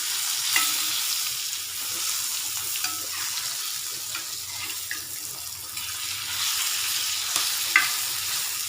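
Fish coated with turmeric, chili powder, salt and masala fries in a pan, giving a steady close sizzle with occasional stirring scrapes and clatters and no talking.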